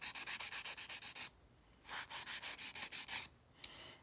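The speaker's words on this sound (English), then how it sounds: "just kind of take and file the sides" Nail file rubbing back and forth along the sides of a nail swatch, close and clear: a quick run of about nine rasping strokes, a pause, then another run of about nine, with no talking.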